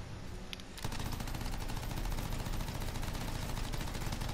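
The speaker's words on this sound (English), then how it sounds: "Machine guns for the win!" Machine gun fire in the video game Anthem starts abruptly after a brief quiet moment, then runs as an unbroken, evenly paced rapid rattle to the end, with no voices.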